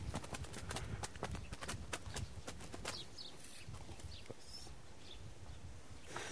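A stallion's hooves clip-clop in a steady walking rhythm, sharp and fairly close at first, then growing fainter and sparser, with faint chirping birds in the background.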